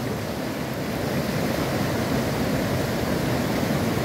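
The rapids of the Itajaí-Mirim river at Salto de Águas Negras in Botuverá churn against the bank in a steady, loud, close roar of rushing water that holds unbroken throughout, with no voices.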